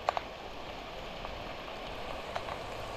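Rain falls in a steady, soft hiss, with a few sharper drips landing on a nearby surface.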